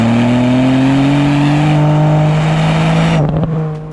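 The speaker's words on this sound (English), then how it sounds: "with 3 cylinders now, the exhaust note sounds even better than it did before" A small three-cylinder Ford Fiesta ST engine drones loudly and close as it pulls through the revs with a raspy exhaust note, then lifts off with a few crackles.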